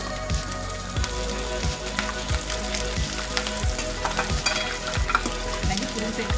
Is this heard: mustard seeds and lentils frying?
yes